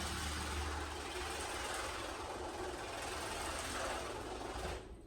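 A Lavor Fast Plus 130 pressure washer runs steadily while clearing residue from inside, a loud continuous motor and spray roar that holds until it tapers off at the very end.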